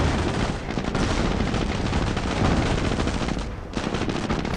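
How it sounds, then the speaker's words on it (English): Calliope rocket launchers in the mobile Company of Heroes game fire a massive barrage, a dense, continuous crackle of rapid blasts and explosions that barely lets up. "And with so many Calliopes you can do a massive"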